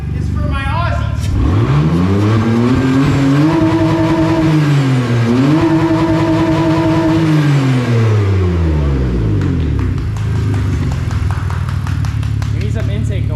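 A BMW E46 wagon engine revs hard to the limiter and holds there, with loud, close intake roar that rises, dips briefly, climbs back and then falls away.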